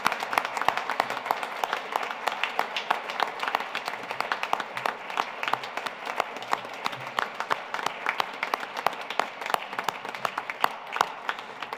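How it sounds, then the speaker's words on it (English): Audience applause fills a 75th-anniversary Fulbright celebration evening at Penn State, a steady spread of fairly soft clapping from a crowd that continues evenly throughout without talk. "Please join me in recognizing everyone this evening with a round of applause."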